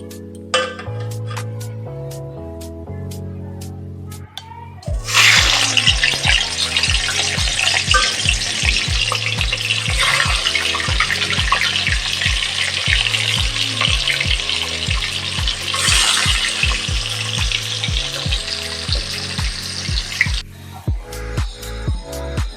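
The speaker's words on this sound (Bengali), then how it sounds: "মাছ ভাজা হয়ে গেছে দেখো।" Turmeric-and-salt-marinated fish sizzles loudly in hot oil in a pan, a sustained crackling hiss after a quieter opening with background music, broken by occasional splattering bursts.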